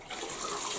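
Cloth lifted out of a bucket of diluted bleach water while cleaning mould off a ceiling, a short close splash and trickle of dripping water, alone.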